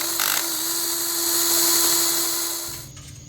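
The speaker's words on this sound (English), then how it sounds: "what we have to do is just drill out these holes just a few millimeters larger" A drill bores out exhaust hanger holes a few millimeters larger on a Genesis Coupe 3.8, a steady high-pitched whine held close for about three seconds before winding down.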